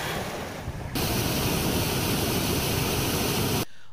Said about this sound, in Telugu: లెవెల్ వంతెనపై నుంచి వరద నీరు ఉధృతంగా ప్రవహిస్తోంది.